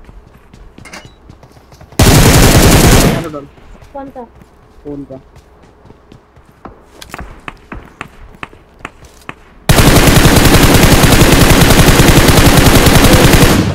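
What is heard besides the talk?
gunfire in video game PUBG Mobile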